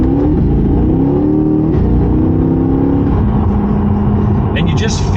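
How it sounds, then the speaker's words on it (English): A 2024 Chevrolet Corvette engine with its exhaust fully open holds a loud, steady rev with a harmonic drone that rises slightly and then eases off, while someone talks over it. "And the exhaust open, as open as it will get"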